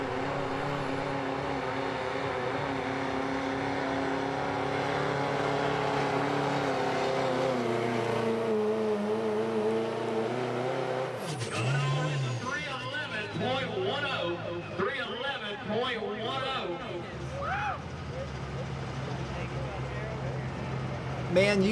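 A diesel pulling truck at a hot rod truck pull in Fishersville, Virginia roars down the track with a loud, sustained engine drone that climbs in pitch, then breaks into rougher revving bursts, with an announcer talking over it.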